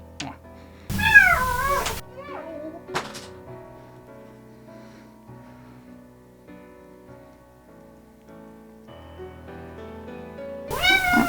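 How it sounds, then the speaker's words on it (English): A cat meows loudly and insistently, a drawn-out wailing cry, then quieter sounds before another loud meow at the end. "You're the one meowing, you get picked up."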